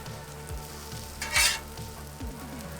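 Pancakes sizzle on a flat top griddle during a breakfast sandwich cook, a steady frying hiss with a brief louder burst midway as they are flipped, plus low clunks of a spatula on the steel surface.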